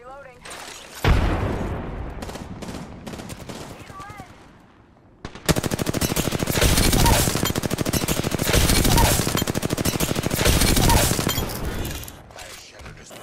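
Weapon fire in Apex Legends, with dense bursts of rapid automatic gunfire that start abruptly, pause briefly, then return loud and sustained for several seconds before fading into quieter game sounds.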